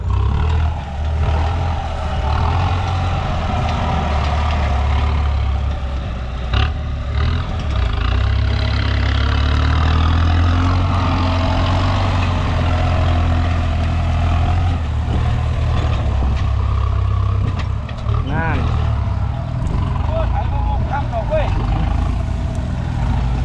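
Kubota MU5702 tractor engine with racing governor springs running steadily and loud, its low rumble continuous throughout while someone talks over it.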